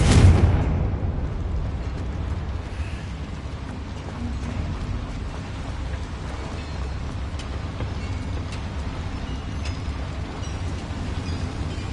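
A Confringo fire spell explodes in the video game Hogwarts Legacy with a loud, close, booming blast at the start, followed by a long rumbling decay and crackling ambience.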